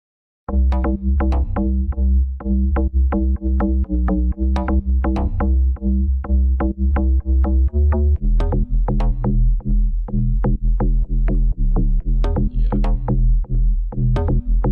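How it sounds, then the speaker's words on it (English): A synth bass line plays a steady, punchy repeating pattern of short notes, loud and upfront, shifting to a different figure partway through. "that was the bass line for the second part"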